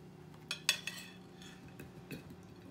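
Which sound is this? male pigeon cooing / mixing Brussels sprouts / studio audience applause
mixing Brussels sprouts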